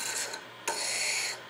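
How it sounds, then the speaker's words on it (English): Sandpaper rasps against a segmented wood blank spinning on a lathe, a close, steady scratchy hiss broken by one brief pause and a sharp restart. "I'm not sanding the blank, I'm just sanding down that material"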